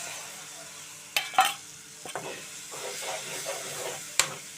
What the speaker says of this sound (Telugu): బాగా ఫ్రై చేసుకోవాలండి, పచ్చి వాసన పోయేంత వరకు